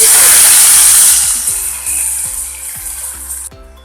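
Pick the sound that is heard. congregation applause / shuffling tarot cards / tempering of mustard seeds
tempering of mustard seeds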